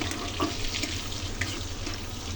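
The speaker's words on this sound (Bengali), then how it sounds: "রসুনটা একটু হালকা ভেজে নিলাম" Whole garlic cloves fry lightly in a pan for butter chicken gravy, giving a steady close sizzle with faint crackles throughout and no talking.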